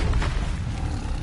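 The Depulso force spell in Hogwarts Legacy lands as a short, loud booming whoosh with a dense low rumble that fades quickly, with no other sound around it.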